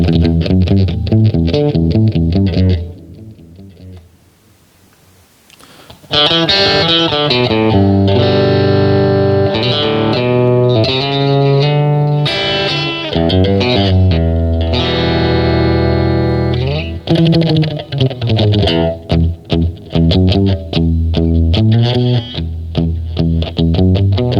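Fender Vintera II electric guitar with maple neck in vintage white, played loud through effects with distortion and chorus: sustained chords and riffs, a brief quieter pause near the start, then dense continuous playing with no voice.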